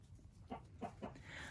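Marans hens clucking in a short, soft sequence of three or four separate clucks, faint and close, with low background noise behind them.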